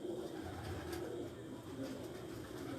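A home-bred flock of pigeons coos steadily and softly at a loft, a low continuous murmur with no talking over it.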